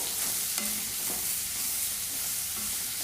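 A green peas curry mixture sautéing in a pan, with a steady close sizzle and the occasional scrape of a spoon stirring through it.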